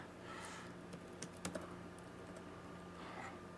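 Faint, sparse keystrokes on a computer keyboard, a few soft clicks clustered in the middle with light taps near the end over a quiet room hum.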